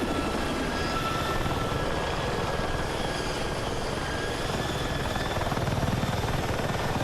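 A helicopter in the video game Battlefield 6 flies with a steady, loud rotor and engine roar that holds constant throughout, with no speech.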